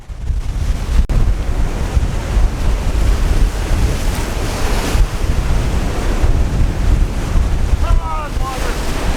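Ocean waves surge and splash against a rocky shore, loud and close, with heavy rushing water and wind buffeting throughout.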